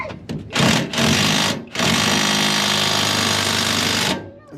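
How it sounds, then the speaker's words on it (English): A 3/8 inch impact wrench hammers at a Ford Ranger leaf spring bolt in loud, sustained bursts, a couple of short blips followed by a long continuous rattling run that cuts off abruptly. "I do have my 3/8 ratchet, or impact, sorry. Give it a try with this."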